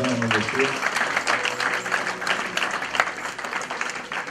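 A church congregation applauding, a dense wash of clapping that carries on steadily, with a voice speaking over it at the start.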